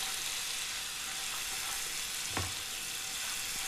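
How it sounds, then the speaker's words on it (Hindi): Ginger, garlic and chili paste frying in a pan, a steady, fairly quiet sizzle with a single soft utensil tap midway, heard alone with no voices. "जिंजर गार्लिक और चिली के पेस्ट को हमने अच्छे से रोस्ट कर लिया है"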